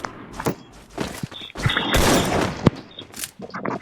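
AK-47 fire in the mobile battle-royale game Free Fire, a few loud close bursts and thuds with mechanical clicks between them, set against game noise.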